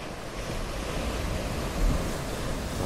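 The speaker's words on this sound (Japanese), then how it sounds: "次の波が来ました。" Sea waves surge and break near an abandoned, collapsed coastal tunnel, a broad rushing roar with wind buffeting the microphone, swelling slightly toward the end.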